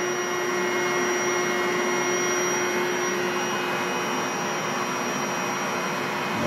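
A Yeacar queen-size airbed mattress's electric pump runs steadily while inflating the bed, giving a loud, constant whirring hum with a high whine and no breaks.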